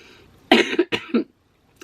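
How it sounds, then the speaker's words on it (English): A few sharp coughs in quick succession, close and loud, followed by silence and a faint trailing sound. "I have a cough"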